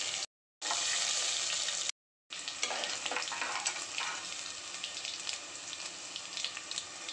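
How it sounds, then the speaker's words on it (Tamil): Mustard seeds, cumin and crushed garlic fry in hot oil with a loud, steady sizzle and crackle, broken by two brief silent gaps. "ஆயில் சூடானதும் கடுகு சேர்த்திடலாம் சீரகம் சேர்த்திடலாம் இடித்து வச்சிருக்கிற பூண்டை சேர்த்திடலாம்"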